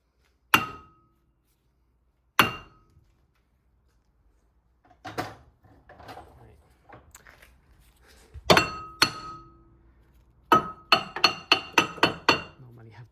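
Several sharp metallic blows from a heavy hammer ring out against a stuck front brake disc on a 2013 Nissan Micra, first two spaced apart, then a rapid flurry of strikes near the end, with some clattering between.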